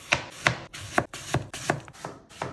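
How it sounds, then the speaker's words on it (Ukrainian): Steady knife cuts slicing peeled apples thinly on a board, about six crisp chops spaced roughly half a second apart, close and clear with no talking. "так все почистив і нарізаю їх скибочками тоненькими."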